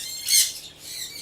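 Small birds in the small bird area of an aviary squawk loudly and close by, one sharp burst followed by softer chirping calls.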